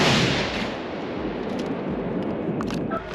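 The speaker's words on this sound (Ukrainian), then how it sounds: "Пострел." An artillery gun fires a shell at a frontline firing position: a loud, sharp blast at the very start that decays into a long, noisy rumble, with no talking.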